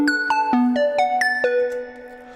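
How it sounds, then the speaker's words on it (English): Quick synth arpeggio programmed in Logic, dry with no delay: bright plucked notes stepping rapidly up and down in an even rhythm, each sharply attacked and decaying fast, clear and close with no voices. "demonstrating this on a quick arpeggio I've written into Logic that sounds like this normally without the delay"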